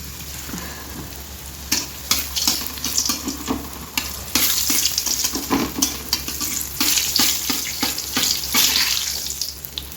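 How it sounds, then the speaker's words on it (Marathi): A puri dropped into hot oil for deep-frying, giving a close, steady bubbling sizzle that swells into bursts of crackling spatter partway through. "तर चला पहिले तरी एक पुरी आपण तळूया."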